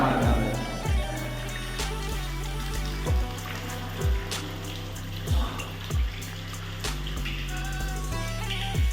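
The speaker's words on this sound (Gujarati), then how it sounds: "વાળી પરથી પાણી પડે આમાં જો." Water pours steadily from an irrigation channel on a farm, a continuous close splash over a low mechanical hum with soft periodic swells.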